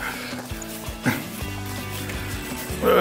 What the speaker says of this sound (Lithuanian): Todėl, kad kanda šunsnukis